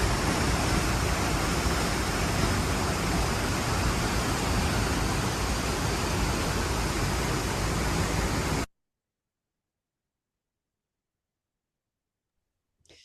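A loud, steady rush of a waterfall in Slovenia roars without pause for several seconds, then cuts off abruptly into silence.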